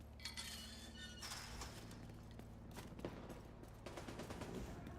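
Gunfire in the video game Division 2, quiet scattered shots and a few sharp cracks with glassy clinks over a steady electronic hum and background music.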